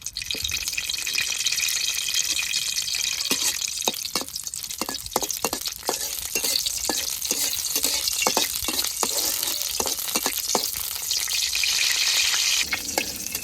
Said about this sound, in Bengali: শুকনা মরিচগুলো ভালোভাবে ভেজে নয়।